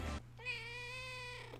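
A pet cat named Mía gives one long, clear meow, close and loud, in a quiet room with no one talking over it.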